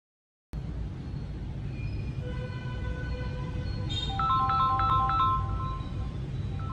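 A Samsung Galaxy A13 plays its incoming-call ringtone, a short tinkling melody of repeated notes arriving a few seconds in over a steady background hum.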